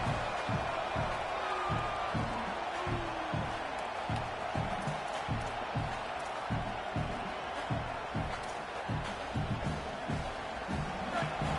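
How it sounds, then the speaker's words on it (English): Stadium crowd noise from the video game College Football 27, a steady loud roar that holds for the whole stretch, with a rhythmic low chanting or stomping pulse running underneath and commentary talk over it. "this crowd trying to help keep them there"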